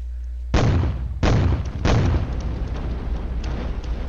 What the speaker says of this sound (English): We're bringing the 128mm onto his Milan section, along with the 80mm mortars.